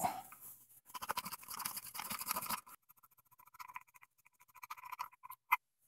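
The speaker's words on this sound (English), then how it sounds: "Now we can just sort of spin it off. I'll just hold on to it with the arc pliers and spin the flywheel." Locking nut on a ProForm Whirlwind exercise bike flywheel being spun off while held with pliers, giving a dense burst of metallic scraping and clicking, then a pause and a lighter series of small ticks and scrapes with one sharp click near the end.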